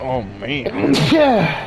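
One sharp sneeze bursts out close to the microphone during a casual conversation, with people's voices right before and after it.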